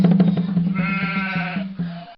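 Sheep bleating in a 1990s edutainment video game, a few wavering, nasal bleats over a looping musical backdrop, loud and close.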